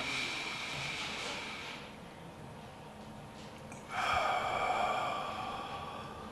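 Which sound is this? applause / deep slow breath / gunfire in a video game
deep slow breath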